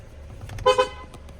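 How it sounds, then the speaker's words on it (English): A 2022 Mercedes-Benz E350 sedan's loud horn blares in two short honks close by, standing out sharply over low background rumble. "This is probably one of the loudest car horns I've ever heard."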